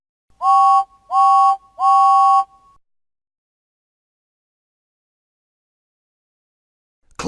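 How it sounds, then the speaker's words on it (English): James the engine's whistle from a Thomas and Friends video game toots three times in quick succession, each a loud, clear, sustained tone, followed by silence. "And he tooted 3 times on his whistle."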